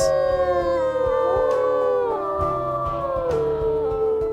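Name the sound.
wolf howls in WolfQuest video game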